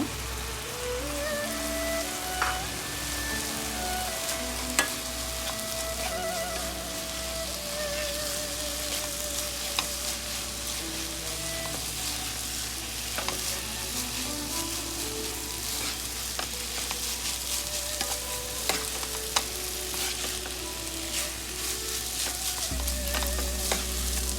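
Parboiled rice stir-fried in a hot pan or wok for a Chinese vegetable sizzler, giving a steady, close sizzle with light clatter from stirring throughout, no talking.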